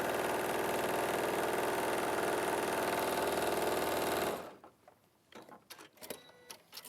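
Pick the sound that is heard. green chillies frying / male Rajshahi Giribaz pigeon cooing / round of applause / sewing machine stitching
sewing machine stitching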